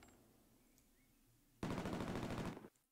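Automatic gunfire in the Hell Let Loose World War II shooter, a loud rapid burst of about a second after quiet ambience, then a single closing shot.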